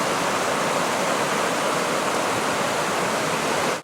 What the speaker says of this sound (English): So you can see all that water rushing behind me.